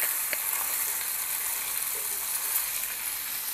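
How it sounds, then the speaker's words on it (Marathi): Cluster beans fry in oil with turmeric and asafoetida, giving a bright, continuous sizzle close to the pan. The sizzling is steady and alone, with no talking. "परतून घ्यायचं आता चांगलं"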